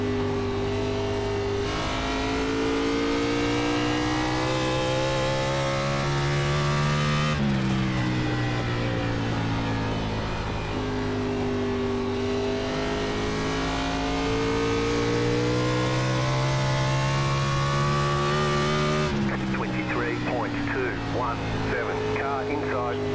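Xfinity Series stock car engines in a racing game at Lucas Oil Indianapolis Raceway Park, a loud sustained droning roar with shifting pitch as gears change, several cars running together without a break.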